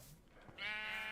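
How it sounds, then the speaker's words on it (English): A single sheep bleat from Minecraft, a short wavering nasal cry that follows a faint rustle, heard alone at moderate volume without any talking. "Sheep."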